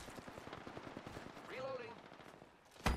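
Rapid automatic gunfire rattles in a steady stream through a video game match, with a short whistling effect midway and a sharp louder crack at the end.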